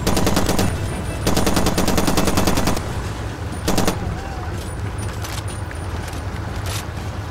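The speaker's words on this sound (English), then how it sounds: "I'm just gonna start taking shots at them" Rapid automatic gunfire in the shooter game Far Cry 2, several loud sustained bursts of machine-gun fire with pauses between them over a steady engine-like rumble, close and dominant.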